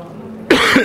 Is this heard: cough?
yes